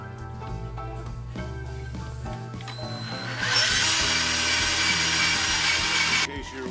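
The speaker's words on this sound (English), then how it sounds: "And just pre-drill it." A power drill whirs in short bursts, then runs louder and continuous for a few seconds while pre-drilling a hole for a porch fixture, before stopping, close by.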